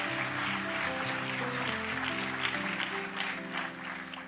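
A congregation at a Portuguese-language Christian gathering claps together over soft sustained music, a steady, moderately distant wash of applause.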